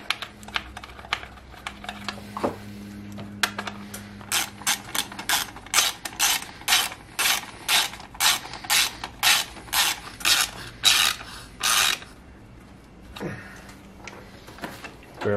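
A hand ratchet clicks in quick repeated bursts while tightening a 10mm bolt on a Subaru 2.5L engine during a serpentine belt replacement, the ticks close and crisp, followed by a brief creak.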